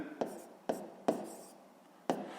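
A pen or pencil writes by hand while a sixth-grade maths exercise is worked out, four brief, scratchy strokes spaced through a quiet moment, close and soft.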